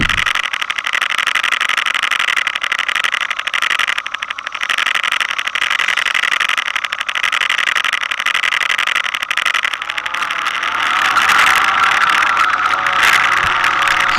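Large, heavy motorbike engine running during a trail ride in the Mammoth Lakes area, a loud, close, steady buzzing drone with rapid rattling pulses that shifts in pitch and roughens near the end.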